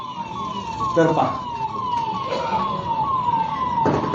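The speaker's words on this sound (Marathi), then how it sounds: "हे जे सायरन वाजते ना अँब्युलन्सची" An ambulance siren wails in repeated rising and falling sweeps through a political rally speech in Thane, steady and fairly prominent, with someone speaking over it.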